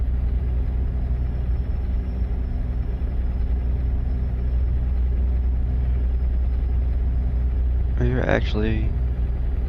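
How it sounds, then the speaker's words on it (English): Modded heavy truck in a trucking simulator rolling downhill with no throttle, the retarder braking it: a steady low engine rumble and drone throughout, with a voice speaking briefly near the end. "being slowed down by the retarder because I believe we're going down a hill"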